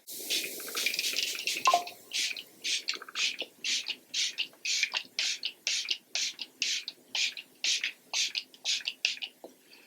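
A Revolution Super Fix setting spray gives a run of short, sharp misting spritzes in quick succession, about two per second, close and crisp with no talking.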